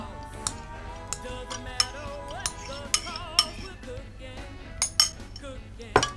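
A spoon clinks against a jug while stirring beaten eggs, crème fraîche and cream for a quiche Lorraine, giving a dozen or so sharp, irregular taps over a soft background hum.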